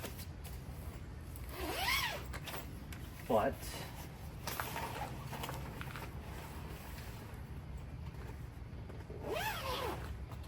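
Zipper on the storage bag of a Tesla Model Y air mattress, pulled in a few quick rasping strokes spread across the clip, close and fairly quiet, with a person talking softly in between.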